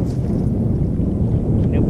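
Wind gusting over Hurricane Creek while fishing, a steady low roaring rumble buffeting the microphone throughout, loud and continuous with no clear voices.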